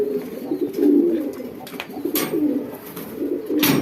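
Racing pigeons with round heads coo steadily in a loft, their low throaty calls rolling on and off close by, with a few sharp clicks and rustles between them.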